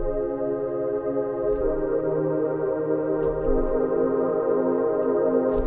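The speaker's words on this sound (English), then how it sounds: "Okay, for the next thing that I'm gonna add is a nice lush pad sound," The Alone preset in Logic's Alchemy synth, a lush, mournful pad, plays sustained layered chords that shift slowly and swell evenly, heard alone and at steady volume.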